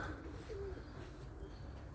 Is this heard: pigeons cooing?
yes